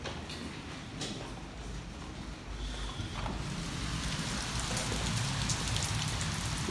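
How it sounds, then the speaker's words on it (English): Heavy rain pours steadily onto surfaces outdoors, a dense, continuous hiss that swells slightly louder toward the end, with no voices. "it started raining pretty heavy"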